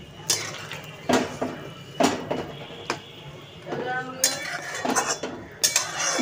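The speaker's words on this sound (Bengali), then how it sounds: "এবার আমি এর মধ্যে দিয়ে দেবো বলগুলোকে, ভেজে রাখা সব বল দিয়ে দিচ্ছি।" Fried vegetable Manchurian balls drop one after another into a pan of sauce, each landing as a sharp clink or clatter at irregular intervals, with softer scraping and stirring between them.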